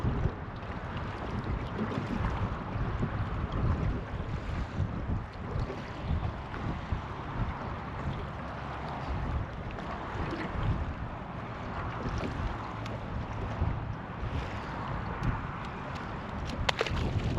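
Breeze blowing across the water at Newcastle harbour on the Hunter River, a steady broadband rush of wind buffeting the microphone throughout, with no talking.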